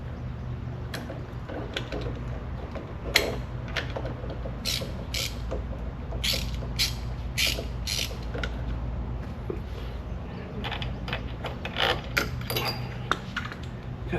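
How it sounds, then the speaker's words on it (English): A socket wrench ratchets a bolt out of the middle of a Reel Rollers Revolution 26 reel mower, with quick bursts of clicking and creaking in a close, quiet workshop. "remove this bolt right here in the middle."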